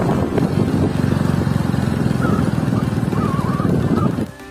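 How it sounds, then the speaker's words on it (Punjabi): A motorcycle engine runs steadily close by during a ride, a loud continuous throbbing drone that holds for several seconds before dropping away at the end, with faint wind and a brief voice. "ਸਾਡੀ ਤੀਜੀ ਲਿਫਟ ਮੋਟਰਸਾਈਕਲਾਂ ਤੇ"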